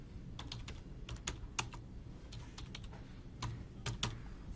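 Quick keystrokes on a computer keyboard as a name is typed for a new Photoshop action, a run of close, crisp clicks in uneven bursts with short pauses, no voices.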